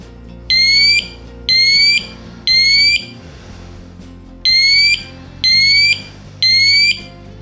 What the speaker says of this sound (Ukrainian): Нажимаємо тест, тест сигналізації і натискаємо ОК. І зараз ми почуємо зумер.